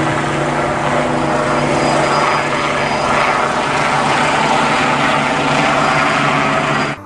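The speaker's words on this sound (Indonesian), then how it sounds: "Wow, di sini ada helikopter." A police helicopter in a toy or video game setting makes a loud, steady whirring rotor and engine drone with a constant hum that holds nearly unchanged for several seconds before stopping abruptly.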